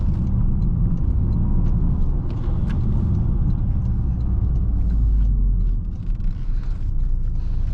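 A 2023 Toyota GR Corolla Core on the move, heard from inside as a steady low road and engine rumble with faint ticks above it, easing slightly toward the end.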